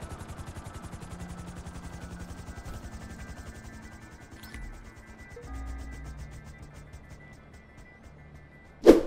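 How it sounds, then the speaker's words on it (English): A helicopter in GTA 5 beats with a rapid, even rotor chop at moderate volume, steady throughout and ending in a sudden sharp thud. "What you're going to want to do is escape quickly in your helicopter"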